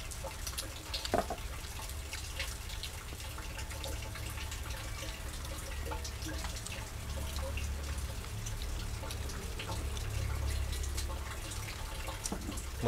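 Steady rain falls in a rural garden setting, a continuous patter of drips and splashes with a low rumbling undertone, moderately loud and alone without voices.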